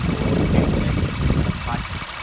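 A Honda Odyssey minivan engine idling just after its fuel injectors were replaced, giving a steady, close low rumble with a faint irregular knocking texture.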